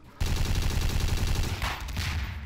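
Rapid, sustained SMG fire from a Half-Life 2 beta weapon in a Garry's Mod weapons mod, a loud, dense stream of automatic shots running for about two seconds with a brief burst of other noise near the end.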